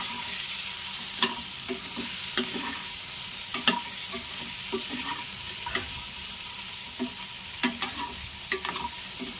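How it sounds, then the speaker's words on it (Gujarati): Poha mixed with boiled potatoes being stirred in a pan, with a spoon scraping and tapping the metal in irregular strokes over a faint steady sizzle, close by and with no talk. "બધું આપણે સરસ મજાનું મિક્સ કરી લેવાનું છે"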